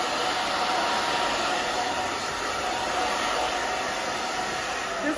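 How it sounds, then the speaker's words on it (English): Handheld blow dryer running steadily while drying short spiky hair, a loud continuous airy whoosh with a high whine, no pauses. "Make sure you're moving the blow dryer, even when you're drying it up"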